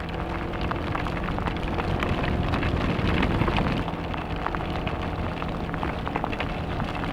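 Heavy rain pours steadily at Monte Maria Shrine, a dense, loud wash of drops drumming on surfaces with no voices, holding constant throughout.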